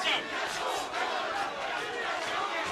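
Crowd in a Dubai boxing arena cheering during a professional bout, a dense, sustained roar of voices from the stands with a commentator talking over it.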